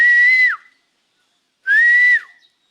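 Two sustained whistled notes, each holding steady then sliding down at the end, loud and close, separated by about a second of silence.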